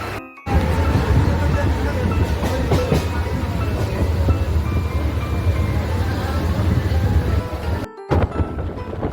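A local train on the Uran to Nerul line runs loudly at speed, a continuous heavy rumble with rattling wheels and carriage clatter from start to near the end, cutting briefly at the edges.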